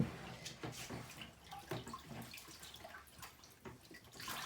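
Raw sheep fleece is rinsed in a tub of water, giving a soft, continuous splashing and sloshing with small drips, faint and close, no voices.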